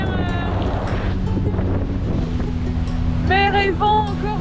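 Rough sea and strong wind roar steadily aboard a Class40 sailing boat in winds near 40 knots, a dense continuous rush with a rising tonal whine near the end.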